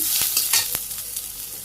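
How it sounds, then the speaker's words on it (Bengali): Leafy greens tossed into hot oil with fried onion, cumin and chilies in a village kitchen, a loud bright sizzle with quick stirring knocks of a spatula against the pan, close and without speech. "আমি শাক ছেড়ে দিতেছি নেড়ে চেড়ে ভেজে নিই"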